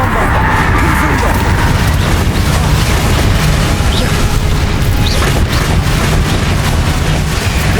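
Spell blasts from Bombarda and Confringo in the Hogwarts Legacy video game make a dense, continuous barrage of booming explosions and crashes. The loud rumble is sustained and fills the whole stretch.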